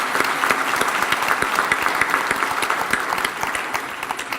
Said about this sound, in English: how about a final round of applause for all of our Leaders and Achievers winners?